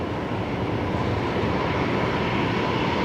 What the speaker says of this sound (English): The A321 Neo here on runway left.